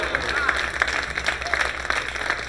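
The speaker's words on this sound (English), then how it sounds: "Crowd acknowledging a great kick." Crowd applause ripples through a pool hall after a well-played kick shot at a 10-ball championship match, steady moderate clapping that carries on under a low hum.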